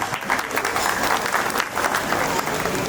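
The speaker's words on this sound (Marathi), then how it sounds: "अशा लोकांसाठी एकदा टाळ्या झालं पाहिजे." A burst of audience applause during a community speech on entrepreneurship, dense and steady hand clapping from a seated crowd, without speech over it.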